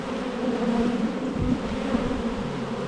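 Agitated honeybees swarm around an opened hive during an inspection. A loud, dense, continuous buzzing drone surrounds the listener, steady throughout with no voices.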